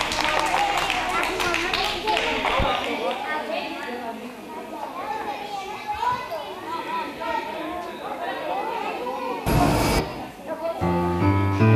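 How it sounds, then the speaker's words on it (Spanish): At a children's storytelling session, an audience gives a round of clapping for the kids, with chatter and children's voices mixed in and sporadic sharp taps. "Le damos un aplauso a todos estos niños que hay aquí tan guapos"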